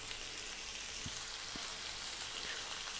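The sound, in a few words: lentils and tomato added to frying pan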